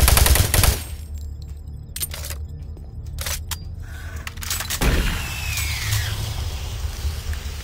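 Automated turret guns in Doom 3 fire in a loud opening burst, then sparse sharp single cracks ring out over a droning industrial hum, followed by a fainter mechanical sweep.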